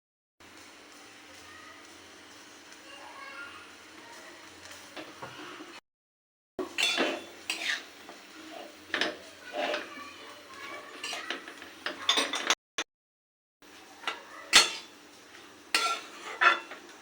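A spatula scrapes and clinks in a pan as coriander, cumin and turmeric powders are mixed into mushrooms for a mushroom bati chorchori, coming in irregular close scrapes and taps with short silent gaps.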